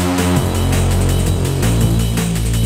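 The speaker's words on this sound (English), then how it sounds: "These are bass sounds based on the original Reese bass sound" Thick 90s-style Reese bass mutation synth, a detuned, growling low tone with shifting harmonics, sustained and loud throughout, changing pitch partway through with no voices.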